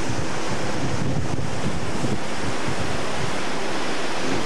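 Waterfall at Seven Falls near Tucson, Arizona, heard from halfway up the falls: a steady, dense rush of falling water with some wind buffeting, loud and continuous, with no talking.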